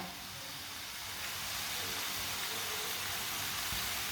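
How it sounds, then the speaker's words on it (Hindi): A gas stove burner set to a medium flame gives off a steady, even hiss that rises slightly and then holds, close and unbroken. "अब चूल्हे को मैंने जला लिया है। चूल्हे की आंच को ना मैंने मीडियम रखा है।"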